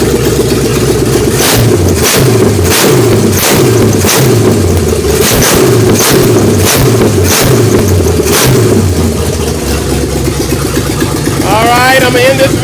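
A Chevy 388 small-block truck engine, converted from TBI to a carburetor and HEI distributor, runs with a steady, loud, rhythmic idle and repeated throttle pulses, and a voice is heard over it near the end.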